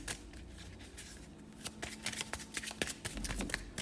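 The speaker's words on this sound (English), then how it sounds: "I'm going to get an oracle card, because now I just want to know" Oracle cards shuffled by hand: a steady run of soft, rapid flicking and riffling, close and fairly quiet, with sharper card snaps toward the end.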